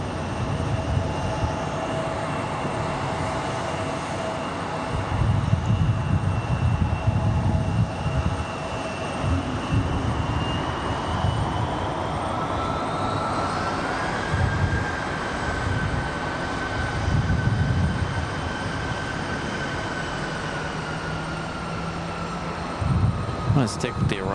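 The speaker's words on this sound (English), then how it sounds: "United 1763 coming in from SFO on this 737 at max 8. Our next arrival." A United Boeing 737 MAX 8 arrives at Raleigh-Durham from San Francisco, its steady jet whine rising in pitch as it passes, with a low rumble underneath and a voice talking intermittently over it.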